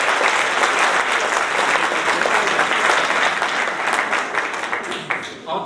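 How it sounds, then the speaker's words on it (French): Sustained applause from an audience at a 2018 New Year's greetings ceremony, dense and steady for several seconds before easing slightly at the end, with some talk faintly mixed in. "Donc, je peux l'applaudir aussi."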